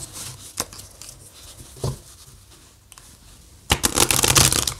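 Tarot cards shuffled by hand, a few soft riffles and taps early on, then a louder, denser burst of shuffling near the end, close and with no talk.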